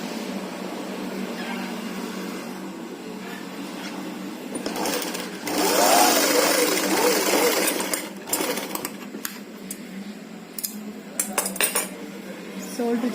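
Sewing machine stitching together the shoulders of a slip, a close rapid mechanical chatter in short bursts with brief pauses and a few light clinks between runs.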